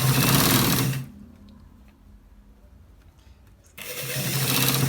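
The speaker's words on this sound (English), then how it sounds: "So we are stitching it to the down part." A sewing machine stitching a shirt collar runs in a loud, steady burst, stops for a near-silent pause of a few seconds, then starts up again at full speed.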